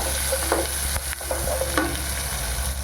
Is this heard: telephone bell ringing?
no